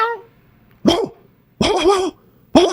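A human voice mimics a dog, giving three short, loud bark-like yelps spaced apart with quiet gaps between them.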